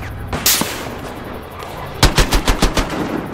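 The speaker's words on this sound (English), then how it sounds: "Sniper fire!" Rapid volley of sniper rifle shots in the video game Battlefield Hardline, loud and close, following a single earlier report, about eight sharp cracks in quick irregular succession.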